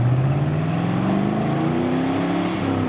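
Classic car accelerating away from a car show, its engine note climbing steadily through the rev range, loud and close with a continuous roar throughout.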